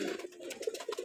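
A pigeon with black-throated old-line plumage coos softly and close, a quick run of low throaty pulses over about a second.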